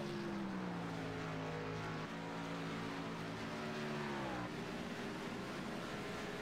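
Race car engines drone on the final lap at Dover, a steady layered roar with a pitch that dips and shifts as cars run past, continuous and fairly distant.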